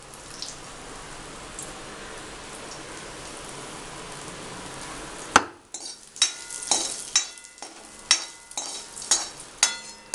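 Steady hissing sizzle of oil for several seconds, then a burst of sharp crackles and pops as spices, ginger and asafoetida hit the hot pan for a dalma tempering, close by with no talk.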